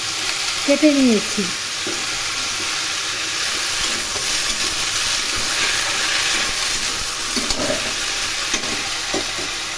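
Eggplant pieces fry in hot oil in a pan for a vegetable fish curry, giving a loud, continuous sizzle throughout, with a brief spoken phrase early on.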